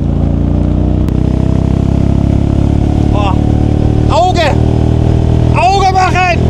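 A motorized sofa's engine drones steadily and loudly throughout, rising in pitch in a few quick surges near the end, with voices talking over it.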